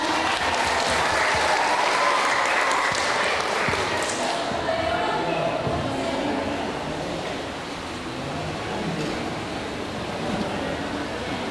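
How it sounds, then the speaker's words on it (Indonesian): Audience applause at a community event, a dense clapping that starts strong and gradually thins and quiets over about eleven seconds, with faint voices mixed in. "Ya, bagi semangat kita tepuk tangan dulu."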